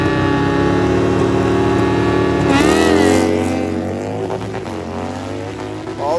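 A Suzuki GSXR 1000 street bike and a Harley bagger roar through a drag race. Their loud engines hold high revs, then rise in pitch as they shift and pull away, and the sound fades slightly afterward.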